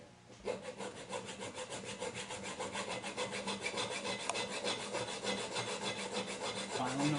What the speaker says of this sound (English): Filing the round side to make it a little square.